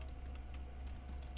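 Soft, rapid keyboard typing on a computer during a DayZ Standalone session, a faint irregular patter of key clicks under a low background hum.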